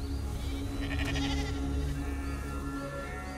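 Goats bleating in a pastoral outdoor setting, a short wavering bleat rising briefly above a steady low background hum; no talking.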